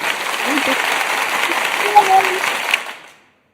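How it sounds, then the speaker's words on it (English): An audience claps steadily for cancer survivors in remission, with a voice speaking over the applause before it fades out near the end. "Let's give a clap to everybody who has went through any type of cancer or anything, and you're in remission."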